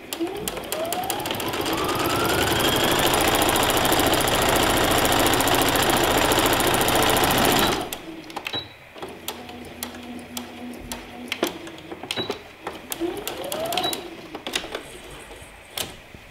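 Sewing machine stitching a quarter-inch seam on a peasant top, a loud steady mechanical whir for about eight seconds, then stops, followed by short starts and clicks as the fabric is adjusted.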